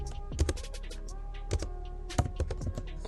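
Typing on a computer keyboard, a quick run of close, light key taps at an uneven pace, with a few louder thunks mixed in.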